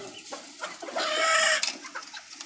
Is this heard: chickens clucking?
yes